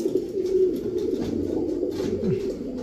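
Pigeons cooing in a loft of fancy breeds such as Pakistani Teddy, Golden, Damascene and Budapest: repeated low, soft throaty coos overlapping close by, steady and moderately loud.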